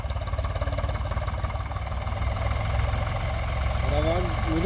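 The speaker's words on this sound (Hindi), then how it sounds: "आवाज काफी बढ़िया कर रहा ट्रैक्टर" An Eicher tractor engine with over 25,000 hours, never opened, runs at a steady idle with a deep, even throb. Faint voices sound briefly near the end.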